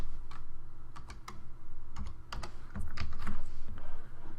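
Code is typed on a computer keyboard in a steady, close run of clicky keystrokes with brief irregular pauses and a few louder taps, with no voice over it.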